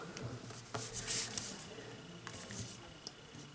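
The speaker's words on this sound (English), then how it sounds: "now take this edge and fold it to this edge" Origami paper being folded and creased by hand, with soft rustles and light crinkling scrapes scattered through a quiet room, close and faint.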